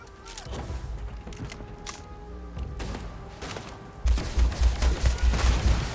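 Video-game gunfire in Starfield during a fight with bandits, scattered shots early and then a dense, loud rapid burst of repeated blasts in the final two seconds.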